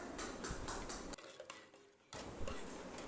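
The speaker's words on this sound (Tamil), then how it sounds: "அதெல்லாம் கரண்டியால் கொஞ்சம் ஓரளவுக்கு பருப்பையும் சேர்த்து நல்லா மசிச்சு விட்டுக்கலாம்." A ladle mashes cooked garlic, shallots, tomato and dal in a metal pot for murungai keerai sambar, with repeated scraping and clinking strokes against the vessel and a brief quieter pause in the middle.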